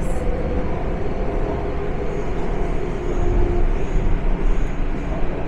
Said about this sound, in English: there comes the other train, heading on into Broadway City Hall Station